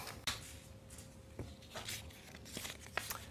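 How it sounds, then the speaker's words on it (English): Sports tape torn by hand, in a faint, close, quick ripping burst followed by a few soft crinkles and taps from handling the strip. "I'm going to tear one piece of tape."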